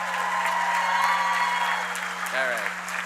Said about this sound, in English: Can we get a round of applause for the graduates again